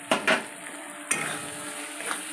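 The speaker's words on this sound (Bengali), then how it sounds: "এটা দিয়ে ভালো করে এবার কষিয়ে নেব" Spices and Kashmiri chili powder are sautéed in a pan for a light chicken curry, giving a soft sizzle with a few sharp spatula scrapes and clinks against the pan, close and fairly quiet, with no voices.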